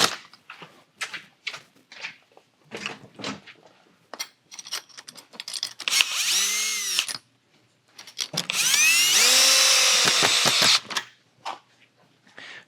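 A power tool tightens the membrane clamps on a XERO Pure MAX water system, starting with short, sharp bursts and clicks, then winding up in two longer, loud whining runs that rise in pitch as the clamps draw tight.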